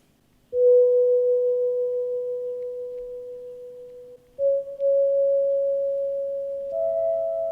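Sustained electronic synth bell tones in GarageBand, treble off and full reverb, held in long steady notes, stepping up in pitch one after another with a smooth, reverberant tail and no talking.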